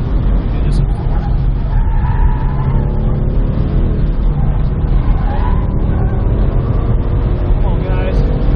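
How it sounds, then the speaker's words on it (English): A 2015 Ford Mustang race car pulling hard in fourth gear down a track straightaway, its engine a loud, sustained roar from the cabin with no letup. "Let's see if I can pull 4th gear down the straightaway here."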